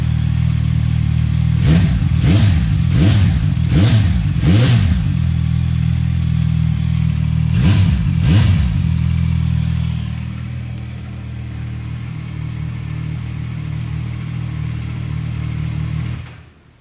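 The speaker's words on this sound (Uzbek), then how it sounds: "Motor sovuq, shu uchun ozgina gaz beryapman." A cold motorcycle engine idles steadily while the throttle is blipped in a quick series of revs, then a second pair, before settling to a lower idle.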